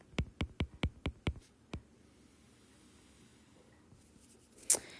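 A pen writes calculus equations by hand on paper, a quick run of about six sharp, evenly spaced taps and strokes, then one more stroke, a quiet pause and a final scratch, close and faint with no talk.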